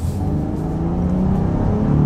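A 2021 Honda Ridgeline Sport pickup truck accelerates with a steady engine hum that climbs gradually in pitch, heard from inside and staying loud and continuous with no talking.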